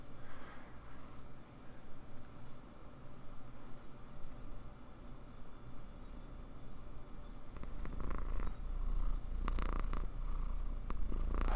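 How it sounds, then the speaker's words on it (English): A domestic cat purrs right against a microphone, a low steady rumbling purr that grows louder and rougher toward the end, alone without talk. "She's purring for you all."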